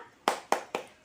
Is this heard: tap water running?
no